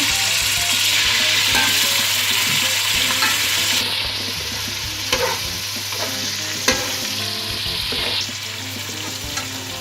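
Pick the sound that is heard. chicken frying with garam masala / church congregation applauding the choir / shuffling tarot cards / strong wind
chicken frying with garam masala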